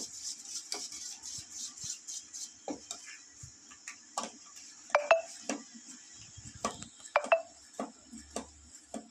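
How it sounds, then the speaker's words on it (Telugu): A homemade ayurvedic sunnipindi soap mixture is stirred in a bowl, giving quiet, irregular clinks and ticks of a utensil against the dish, with a few sharper taps. "చిన్న చిన్న ఉండలు కూడా మొత్తం కలిసిపోయేటట్టు కలుపుకోవాలి."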